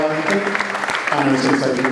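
An audience at a London DevOps meetup gives a short round of applause, scattered clapping mixed with a speaker talking over it.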